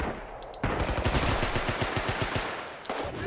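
Rapid bursts of machine gun fire in the shooter game Rising Storm/Red Orchestra 2, a loud sustained string of sharp shots after a brief lull, ending in scattered rounds.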